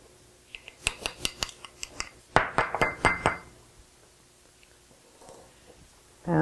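Minced garlic and other ingredients being stirred in a glass dish, a quick run of bright clinks and scraping taps in two bursts, then quieter scattered knocks.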